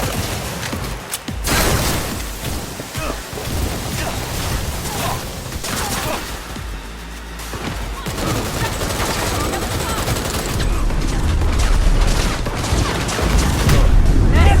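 Rapid sniper and automatic gunfire in Cyberpunk 2077 combat: loud, dense bursts of shots and booms fill the whole stretch, with voices heard amid the fighting.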